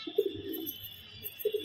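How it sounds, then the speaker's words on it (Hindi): Pigeons resting in the sun give soft, low cooing calls, one murmur near the start and another near the end, over a faint background hum. "सारे कबूतर धूप सेक रहे हैं आराम से"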